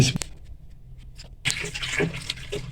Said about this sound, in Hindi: नींबू का पानी शामिल कर देंगे।